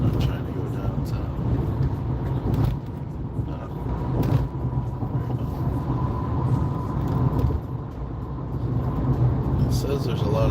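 A car drives through heavy downtown Houston traffic, with steady engine and road rumble throughout and other passing vehicles close by, while people talk over it.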